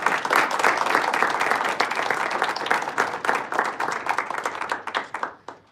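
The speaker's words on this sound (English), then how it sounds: "A big round of applause." A standing audience at a Toastmasters club meeting in Dubai claps in a loud, full round of applause that thins into scattered individual claps and fades out at the end.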